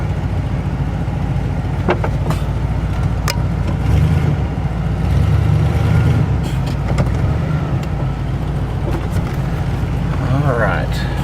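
The engine of a 1988 TravelCraft Class B motorhome drones steadily at low pitch while driving, close and continuous, with a few clicks and rattles over it.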